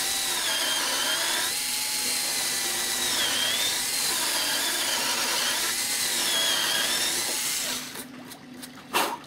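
A power drill widens a hole with a bigger bit while mounting a DLE 20 gas engine on an Edge 540 model airplane, giving a steady close whine that rises and dips for about eight seconds before stopping into a few faint clatters.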